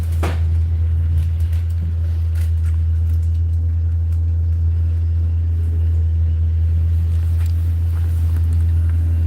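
Inside a bus on a journey out of Scunthorpe, a heavy low engine rumble holds steady throughout, with faint rattles and knocks on top and no talk.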